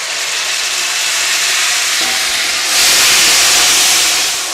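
Tomatoes tipped into golden-fried onions in a pan for achari murgh chawal, a loud steady sizzle that surges into a brighter, hissing burst of steam midway, close and without talk.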